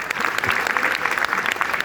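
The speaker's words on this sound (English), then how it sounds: "Let's give ourselves a round of applause." A short, loud burst of crowd applause at a Bayan-USA rally speech, dense clapping from many people filling the space, heard alone without talk.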